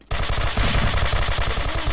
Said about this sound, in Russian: Стреляют.